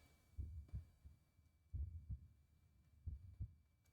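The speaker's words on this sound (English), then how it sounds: "There's a heartbeat." A deep, muffled heartbeat in the game Friendly Facade, three paired lub-dub thumps spaced evenly and heard alone over a low hum.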